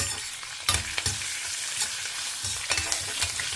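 Urad dal frying in a pan as a chutney base, a steady crackling sizzle with several sharper clicks and taps of stirring scattered through, close and moderately quiet.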